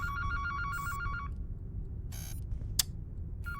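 A telephone ringing in the horror game The Baby in Yellow, with bursts of a warbling electronic ring repeating against a low background hum, plus a short sharp click near the end.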